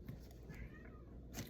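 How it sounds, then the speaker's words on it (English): A cat meows outside a door, wanting to be let in, with a faint, thin cry drifting in quiet indoor surroundings. "I gotta let my cat in."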